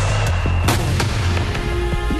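Fireworks are test-fired at a company firing range, a loud, dense barrage of sharp cracks and booming reports going off close in rapid, irregular succession over a roaring background.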